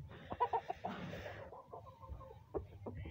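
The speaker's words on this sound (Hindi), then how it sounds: "देख लो अज मुर्गियां मुर्गे जेड़े बड़े खुश ने" Hens and roosters out in the sunshine at a Punjabi backyard coop, clucking in short, close bursts with brief pauses, a few sharper calls near the start and later.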